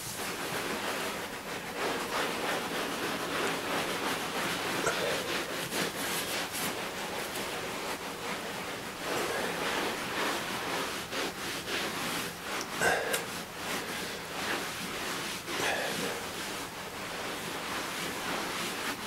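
Sand is rubbed by hand into carpet, giving a soft, continuous scratchy brushing with uneven strokes and a few louder swishes, fairly quiet and close, with no talking.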